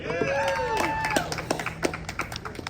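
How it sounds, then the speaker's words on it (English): A comedy club crowd in Corpus Christi claps after a joke, loud dense applause with scattered sharp claps. A comedian's voice talks over it the whole time. "Anyone who did not clap for that"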